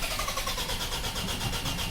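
Ford Ranger with its timing chain cover removed, engine cranking on the starter without firing: a continuous dense whirring churn, loud and steady throughout.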